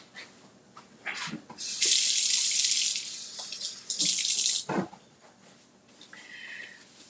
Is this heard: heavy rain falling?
no